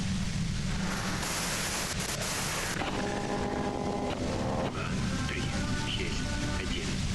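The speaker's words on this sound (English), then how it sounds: "You can do it through the white noise." A device in a detective video game emitting hissing white noise, a constant loud static wash that shifts tone partway through, with faint tonal hum lines appearing later.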